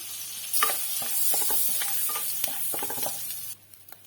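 A bay leaf and a piece of cinnamon hit melted butter in a kadai, giving a bright close sizzle with light stirring clicks that fades near the end.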